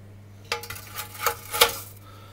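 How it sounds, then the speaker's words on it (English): Lit charcoal coals placed into a COBB grill, making three or four close metallic clanks and knocks over a steady low hum. "I'm now just gonna put them into the COBB"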